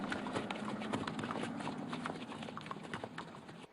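Hooves of mounted Republican Guards clatter steadily on pavement, many horses clip-clopping together in a dense, continuous stream at moderate distance with crowd and street noise beneath.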